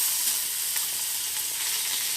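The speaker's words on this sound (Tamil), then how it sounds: "கடுகு, உளுத்தம் பருப்பும் பொரிஞ்சதுக்கப்புறம் நம்ம கொஞ்சோண்டு கருவேப்பிலையை போட்டுக்கிறோம்." Loud, steady sizzling of mustard seeds, urad dal and curry leaves frying in hot oil for tempering peanut chutney, close up, with faint crackles and no voices.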